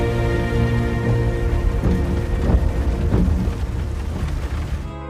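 Steady rain pours down with a dense, continuous hiss and scattered heavier splashes, loud and close, with no voices.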